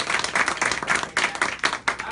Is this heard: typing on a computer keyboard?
no